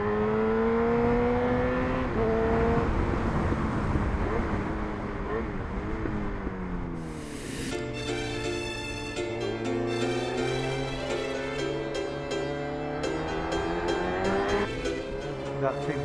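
Motorcycle riding on a highway, fitted with a power commander and freshly balanced throttle bodies and cleaned injectors; steady engine drone with rising and falling whine of revs through gear changes, wind noise beneath, with someone talking over it.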